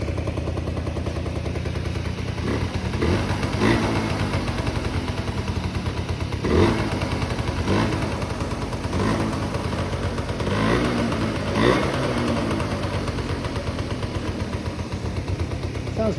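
A Yamaha CA50 Salient moped engine idling with no throttle, a steady close two-stroke putter with a few brief louder bursts across the stretch.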